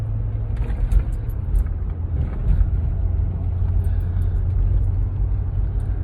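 A car drives through the streets of Corpus Christi, heard as a steady low road rumble and engine drone from inside the vehicle, continuous and even throughout with no talking.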